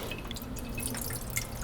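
Nut milk drips from a squeezed straining bag, a steady patter of small droplets falling into liquid, close and soft, with no talk over it.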